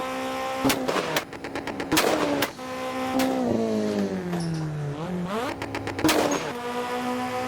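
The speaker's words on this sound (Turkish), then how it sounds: "bu egzozlar senin için patlıyor bugün dostum" Exhaust backfire pops from a Lancer Evo in the Assetto Corsa racing game on a highway mod, sharp bursts of rapid crackles between engine revs that rise and fall, loud and close throughout.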